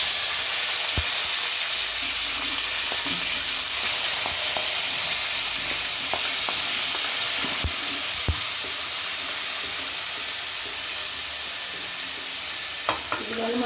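Loud, continuous sizzling and hissing as cinnamon, cloves, curry leaves and onion fry in hot oil for a tempering, with occasional sharp pops and stirring clicks throughout.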